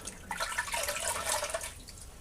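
Water running from a tap to rinse pine shave cream off after lathering with a boar brush, a soft continuous splashing trickle that stays quiet and close, with no voices.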